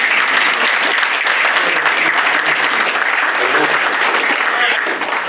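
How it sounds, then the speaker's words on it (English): Sustained applause from a seated audience at a legislative breakfast honoring school board members, a dense, steady wash of many hands clapping with no letup. "Let's give them a round of applause."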